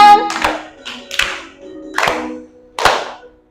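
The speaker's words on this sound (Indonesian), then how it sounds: "Tepuk tangan." A classroom of students claps in unison, four loud, close bursts of many hands spaced under a second apart, with a short sung tone at the start.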